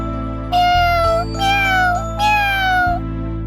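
A kitten in a children's cartoon gives three high, drawn-out meows, one after another, over a steady background music tone. The sound is close and clear.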